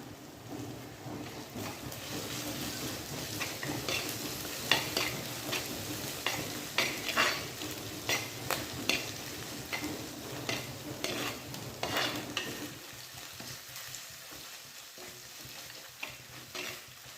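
Split green chillies sautéing in hot oil for an anchovy curry, a steady close sizzle broken by repeated scraping stirs, with no talking.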